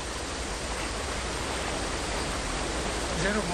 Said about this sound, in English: Is that a waterfall?